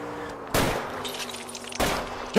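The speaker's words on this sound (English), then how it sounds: "I'll try to shoot out his tires." Video game gunfire aimed at a fleeing car's tires, two loud sharp shots spaced about a second apart over a low engine drone, each with a brief ringing tail.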